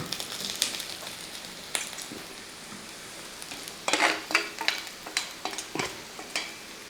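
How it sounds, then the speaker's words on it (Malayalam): Half-cooked elephant foot yam fries in oil in a pan and is stirred, with soft sizzling under close scraping strokes that grow louder and more rhythmic in the second half. "ഒന്ന് ഇളക്കി കൊടുത്തതിന് ശേഷം പകുതി വേവായ നമ്മുടെ ഈ ചേന അങ്ങോട്ട് ഇട്ട് കൊടുക്കുക."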